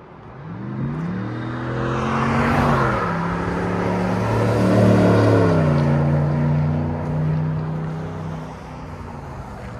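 A Ram 1500 pickup with a Flowmaster performance exhaust: deep exhaust rumble swells as it approaches and passes, engine note rising and falling, then fading slightly as it moves away.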